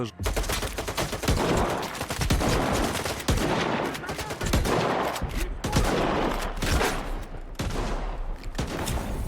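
Shotgun blasts in S.T.A.L.K.E.R. 2 ring out in a firefight, roughly a dozen loud sharp booms at irregular intervals with echoing tails in between.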